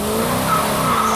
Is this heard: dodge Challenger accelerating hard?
yes